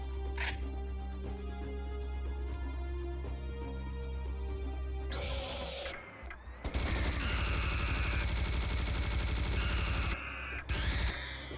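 Sustained machine gun fire in Serious Sam The First Encounter HD, loud rapid continuous bursts over game music and effects, with a brief pause midway and another near the end.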